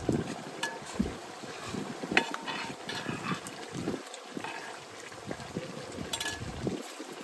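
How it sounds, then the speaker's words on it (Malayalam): Gusty wind buffets the microphone in a steady rushing roar, with scattered knocks and rattles throughout. "കാറ്റാണ് കാറ്റെന്ന് പറഞ്ഞാൽ അങ്ങോട്ട് അടിച്ച് ഇങ്ങോട്ട് വരും"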